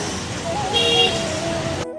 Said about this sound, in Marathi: आज मार्केटमध्ये आलो तर भरपूर ट्रॅफिक जाम होतं